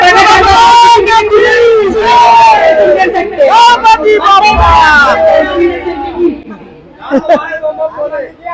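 Crowd at a Ganesh festival pandal in Raipur: a dense babble of many voices with shouts and whoops, loud and close, with one person talking over the noise before it thins toward the end.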